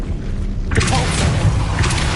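A Depulso spell effect fires after a short quiet lead-in: a sudden deep boom with a bright burst, then a rumbling, thumping tail that carries on to the end.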